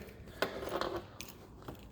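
Strong scissors snip through carpet for a toolbox lining, giving a couple of quiet, close crunching cuts with a soft rasp between them.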